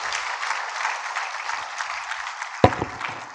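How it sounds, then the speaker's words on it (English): A conference audience at the Afreximbank Annual Meetings applauds a professor with a warm, steady wash of clapping that fills the hall, with one sharp louder clap or knock near the end. "So a great warm round of applause to our professor here"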